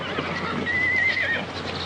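A horse whinnies once, a clear rising-and-falling neigh in the middle of a short stretch, with faint hoof and stable noise around it and no voices.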